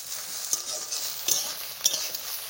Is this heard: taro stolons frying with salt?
yes